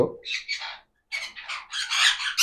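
Blue-and-yellow-sided conure parrots give harsh, close squawks in quick bursts, a short series of raspy calls broken by a brief pause.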